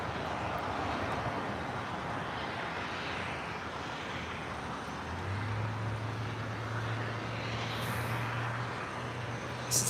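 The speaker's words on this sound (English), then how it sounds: "we do have that MD-11 about to touch down" A Korean Air Cargo MD-11 landing at LAX makes a broad, steady jet roar at a distance. A low engine drone rises partway through and holds to the end.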